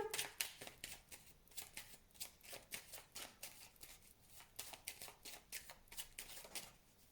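Tarot cards riffled and cut by hand, a quick run of crisp papery flicks in steady bursts, close and fairly quiet with no voice.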